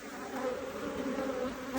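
Honeybees buzz during a hive inspection, a dense, continuous swarm hum at close range that wavers slightly in pitch and stays steady throughout, with no one talking.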